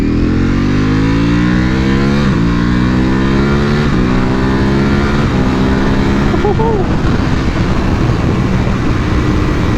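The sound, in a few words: Ducati Panigale V4R motorcycle riding in race mode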